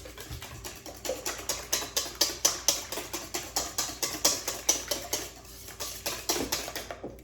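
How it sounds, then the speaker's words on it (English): A whisk beating sour cream in a bowl, a fast even series of light clinking strokes against the bowl that pauses briefly before resuming. "Give it another little whisk."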